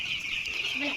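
Young chicken chicks, about eight days old, peep in a steady, high-pitched chorus that continues through the whole short moment, close by and with no talking.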